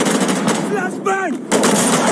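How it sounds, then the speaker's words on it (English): Flashbang grenade going off in the Black Hawk Down shooter game, a loud blasting burst that fills the clip, with a brief lull and a voice in the middle before the noise returns. "Flashbang!"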